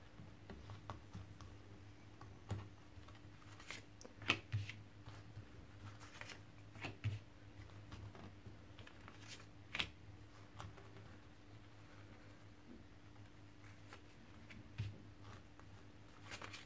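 Tarot cards shuffled for a card reading, soft papery riffles and taps in irregular bursts, quiet and close, with no talking.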